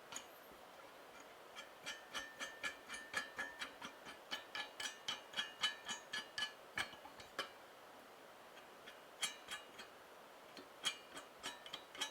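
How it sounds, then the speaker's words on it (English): Repeated small clicks and ticks from screwing the brace of a Celestron CGX mount tripod up toward the top, a steady ratcheting rhythm of close, fairly quiet taps with occasional brief pauses. "you can screw this all the way up to the top so that it stiffens the tripod"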